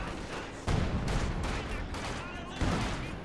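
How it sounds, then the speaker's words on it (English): Tank cannon fire in the World War II strategy game Company of Heroes 2, with booming shots around a StuG and Panzer IVs, heavy blasts stacking over rumbling battle noise while a commentator talks over it. "A long range shot on the Stug."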